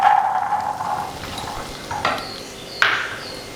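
Cooked green peas sautéed with masala in a pan, with a steady close sizzle and a few clinks and scrapes of a spoon stirring against the metal.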